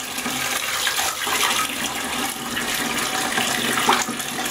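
Unchlorinated well water runs steadily as sand is rinsed for a musk turtle tank, producing a continuous splashing, gurgling wash at moderate loudness with no talking.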